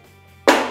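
An iPhone 11 Pro Max dropped from pocket height lands on a parquet floor. One sharp, loud clack breaks a quiet room and dies away quickly.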